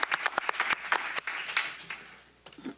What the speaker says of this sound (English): Can we give Jim a round of applause too, actually?